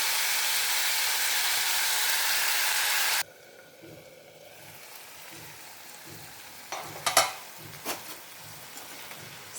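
Brinjal pieces frying in a pan give a loud, continuous sizzle for about three seconds, then it cuts off abruptly, leaving a quiet room with a few faint clinks.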